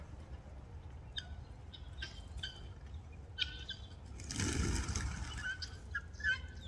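Wild guinea fowl in a flock give scattered short calls and chirps, with a louder burst of squawking and wing noise around the middle, over a steady low outdoor rumble.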